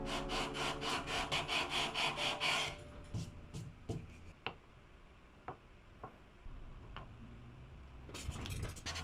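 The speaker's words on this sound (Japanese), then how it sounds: "クリコ刀と紙やすりを使って整えていきます" Sandpaper and a carving knife working the neck pocket of a roughly 50-year-old Japanese vintage guitar under repair, with rhythmic rasping strokes at first, then sparse sharp ticks and scrapes, and more rasping at the end.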